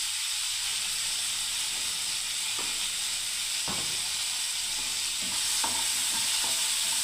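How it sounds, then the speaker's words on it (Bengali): Vegetables with onion, garlic, mustard-almond paste and red chili powder sizzle steadily in a pan, with a constant hiss and a few soft scrapes from stirring. "ব্যাস বন্ধুরা, আমি এটাকে এখন 2 মিনিট কষতে থাকবো বন্ধুরা।"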